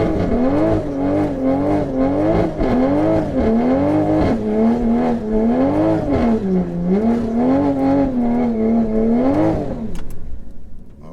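A stage 3 760hp Toyota Supra revs hard on a drag strip, its engine rising and dropping in repeated loud, close pulls for about ten seconds before cutting off.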